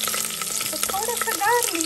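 Cumin seeds drop into hot oil already holding curry leaves and green chili, setting off a brief, loud close sizzle with crackling spatter.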